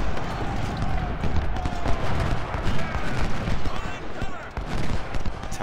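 Dense battlefield gunfire and booming cannon shots crackle continuously in Ultimate General: Civil War, loud and overlapping with irregular heavy thumps throughout.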